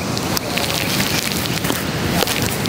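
Rain pours steadily during a stormy day in Puerto Escondido, a dense close hiss of drops with no talking.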